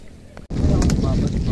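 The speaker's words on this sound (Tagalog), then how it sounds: "Lakas na naman ng hangin." Strong wind roars into the microphone at a milkfish fishing spot in Valenzuela City, starting after a brief dip and then blasting loud and steady to the end.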